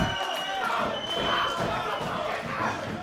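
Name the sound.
roaring wrestling crowd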